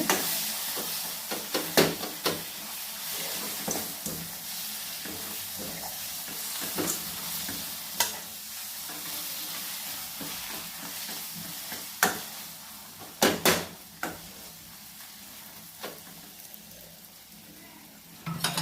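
Tomatoes fry in oil in a pan for a vathal kuzhambu, with a continuous close sizzle and hiss. Occasional sharp clacks come from a spoon stirring against the pan, and no one speaks.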